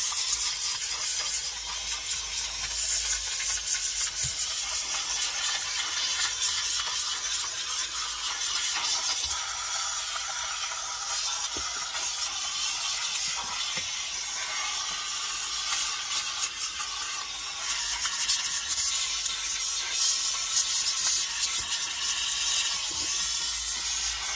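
Steam hisses continuously from a cleaner while a Ford Focus's panels are detailed, a steady bright rushing spray that keeps on for the whole length with slight surges and no voices.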